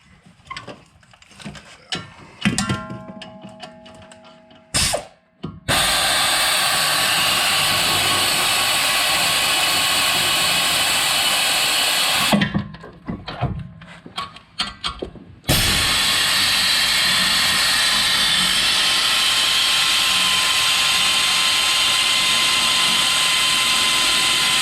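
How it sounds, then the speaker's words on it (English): A powered socket tool loosens the rear brake caliper bracket bolts on a 2007-2015 Chevrolet Impala, giving two long, loud, steady whirring runs of several seconds each, separated by short clatters of handling noise. "we will take a 13 millimeter socket, and then we will just get that caliper bracket off of there"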